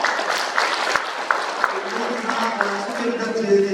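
An audience claps steadily through the whole stretch, dense and fairly close in a hall, with a voice talking over it and a few sharper knocks standing out.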